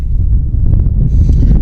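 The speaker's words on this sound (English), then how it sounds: "it's getting windy, so we're going to have to get out of here." Low, blustery wind buffets the microphone in a continuous rumbling roar at a remote-control model plane flying field, loud and close, with no talking.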